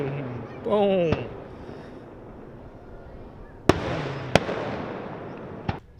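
Fourth of July fireworks bursting in several sharp, loud booms spaced a second or so apart, with a voice speaking briefly beforehand.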